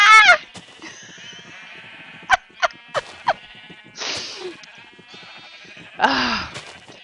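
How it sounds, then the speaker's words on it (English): Minecraft sheep bleat several times, loud and close, in separate cries spaced a few seconds apart, with brief quieter sounds between them. "Oh, yellow sheep."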